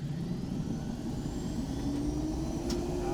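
A miniature model of a turbine car engine idles at about 21,000 RPM, giving a steady, dense rushing whir with a thin whine that slowly rises in pitch, heard alone without any voices.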